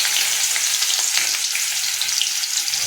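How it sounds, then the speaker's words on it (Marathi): Chopped onion crackles and sizzles in hot oil in a kadai as tempering for a moong dal amti with tomato and drumsticks, a steady dense hiss throughout with faint stirring and no talk. "फोडणीला टाकायचं, त्याचा तडका द्यायचा छानपैकी."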